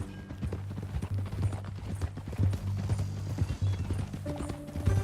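Steady clip-clop of horse hooves trotting along in Red Dead Redemption 2, rhythmic and fairly close, over a low droning music-like background.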